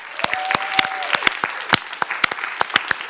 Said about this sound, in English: Can I have a warm round of applause for the volunteers?